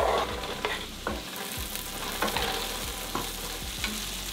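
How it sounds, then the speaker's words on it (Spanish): Onion sautés in butter in a frying pan, a steady close sizzle broken by several scraping stirs of a utensil at regular intervals, with no voices. "Vamos a agregar la cebolla. Esperamos que se acitrone por 1 minuto."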